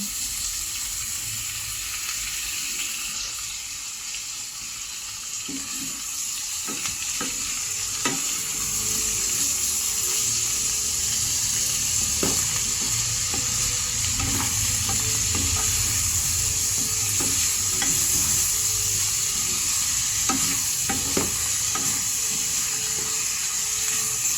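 Vegetables for lumpiang gulay being stirred in a hot frying pan, a steady sizzle with scraping utensil strokes and occasional clinks, close and continuous without talk.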